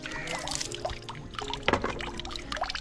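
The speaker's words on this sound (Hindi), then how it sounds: "ये देखिए बाल्टी को भर रहा है" Filtered tubewell water pours steadily into a bucket, a continuous splashing trickle that carries on for a few seconds with one brief louder gush partway through.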